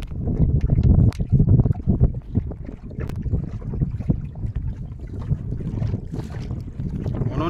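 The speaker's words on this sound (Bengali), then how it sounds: "কারণ প্রচণ্ড হাওয়া।" Strong wind buffets a small boat on a tidal river in the middle of a mangrove forest, heavy gusty rumbles and flutter with water noise, loud and close throughout, with no voices.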